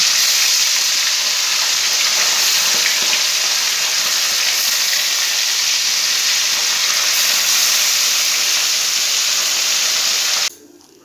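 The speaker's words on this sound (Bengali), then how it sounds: "এই যে মাছগুলো আমি এপিট ওপিট করে ভেজে নিয়েছি।" Boroli fish fry in hot oil in a pan, giving a loud, continuous hissing sizzle with no voices. The sound stops abruptly at the very end.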